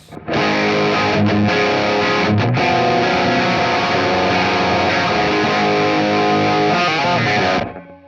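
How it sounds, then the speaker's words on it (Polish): Distorted electric guitar played through a ToneX amp profile with a crunch setting, a loud sustained overdriven chord ringing for several seconds, briefly broken twice near the start, then cut off and fading at the end. "Bardzo fajny, bardzo fajny, plastyczny, przesterowany dźwięk."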